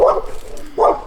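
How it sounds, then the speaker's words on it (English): A dog behind a backyard fence gives two loud, close barks about three-quarters of a second apart, picked up through a Reolink Duo Floodlight security camera's microphone. "And there's a dog in my fence."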